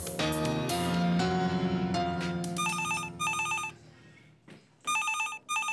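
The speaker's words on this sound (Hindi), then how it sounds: "किसी को फोन नहीं सुनाई दे रहा" A telephone rings indoors in a home scene, sounding in several repeated bursts of bright electronic tones after a swell of music, with short gaps between rings.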